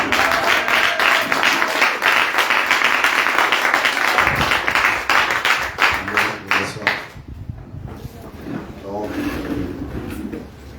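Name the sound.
congregation applause and acclamation in church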